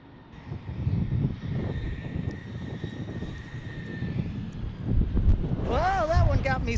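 A jet airliner arrives at San Diego International Airport, its engine roar building loud and close over a steady wind-buffeted rumble, with a whining tonal sweep near the end as it passes; people talk throughout.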